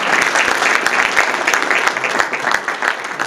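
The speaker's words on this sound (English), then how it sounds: "Give yourselves a round of applause." Audience applause fills a conference hall at an investment promotion event in Ghana, a dense, steady wash of many hands clapping throughout, fairly loud and sustained without pause.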